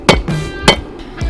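Steel cut from a bearing race is hammered into a trench knife, giving three loud, close metallic strikes spaced about half a second apart, each with a ringing tail.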